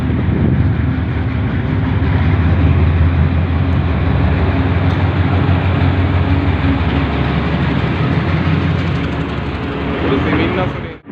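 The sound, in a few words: train running on the Quetta railway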